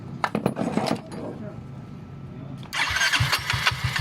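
A Yamaha Mio i 125 scooter fitted with a 59 mm big-valve setup starts after a few clicks and brief cranking, then catches into a loud, close, sharp idle with rapid throbbing pulses; a voice speaks briefly early on.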